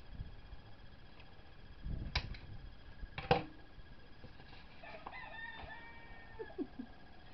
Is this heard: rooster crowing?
yes